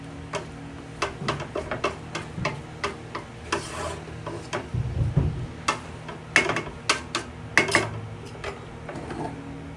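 Canton-bihon guisado noodles with vegetables are stirred in a pan, a utensil rubbing and tapping against the metal in a steady run of short strokes, close and moderately loud, with no talking.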